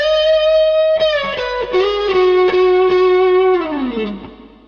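Distorted electric guitar playing a riff, loud and close, with a held note bending and sliding, a run of picked notes, then a downward slide fading out.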